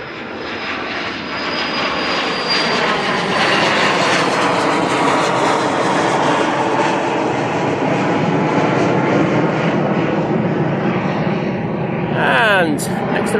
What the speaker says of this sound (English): Right, BizJet now on the roll.